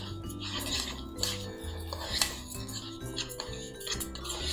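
A spoon clinks and scrapes against a metal pot while rice is stirred into browned onions, raisins and butter, giving steady irregular taps and scrapes throughout at close range.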